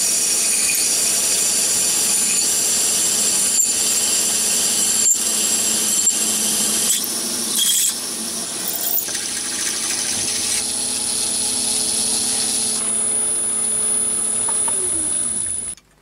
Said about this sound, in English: I drill for the 10mm thread